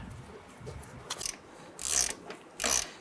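Ratchet clicking while tightening a lower control arm bolt on a 1994-2004 Ford Mustang, with a few quiet clicks followed by two louder, brief ratcheting bursts near the end.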